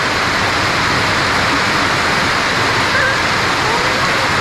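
Heavy rain falls in a rural province, a dense, steady roar of water close by and loud throughout, with a voice faintly heard within it.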